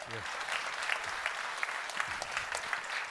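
Audience applause for a startup pitch at TechBBQ, steady dense clapping from a crowd filling the space throughout, with a brief voice at the start.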